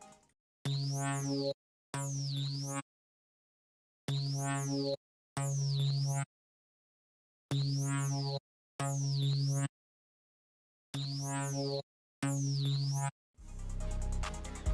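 A lead one-shot hit from Alex Che's Serum bank plays as bright, bouncy synth stabs with a swooping high overtone, eight short hits in pairs separated by silences, followed by a brief noisy burst at the end.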